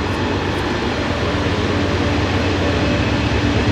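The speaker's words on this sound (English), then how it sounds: "the train happened to go by right in the middle of doing the hair, and it's loud" A heavy train thunders steadily along railroad tracks beside a creek, its loud broadband rumble constant and close throughout with no voices.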